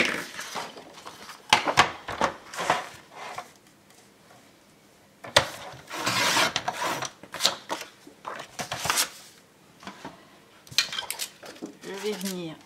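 Paper is being cut and handled for the back cover of a baby album, heard as irregular bursts of crisp rustling and clattering snips separated by quiet gaps.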